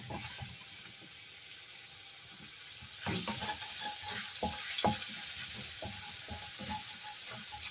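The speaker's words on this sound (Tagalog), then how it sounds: "So, igisa na natin yung bawang." Garlic sautéing in oil in a pan: a steady close sizzle that swells louder midway as more frying starts, with scattered clinks and scrapes of stirring and no talking.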